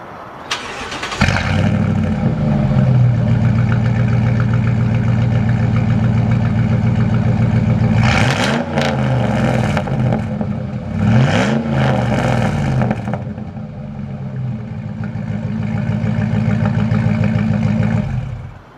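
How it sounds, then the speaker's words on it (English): A truck's exhaust at a park: the engine fires up, settles into a deep, steady rumbling idle close by, and rises in a couple of brief revs midway before returning to idle, with no voices. "show you an exhaust clip real quick"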